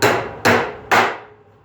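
A titanium hammer drives an 8-penny, 2.5-inch ring-shank nail in three sharp, evenly spaced strikes, each ringing briefly and decaying, close and loud with no talking.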